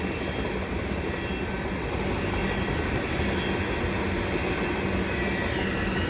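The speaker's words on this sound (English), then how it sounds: "Was not expecting a second train." CN mixed freight train passing at the St. John's Boulevard overpass, a steady loud rumble of rolling cars and wheels on rail, continuous throughout with faint squeal tones.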